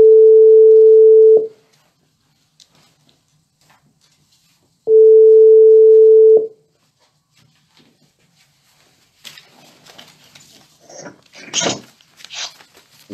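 Two long steady telephone ringback tones a few seconds apart, clear and alone in silence, followed by faint muffled noises as the call is picked up.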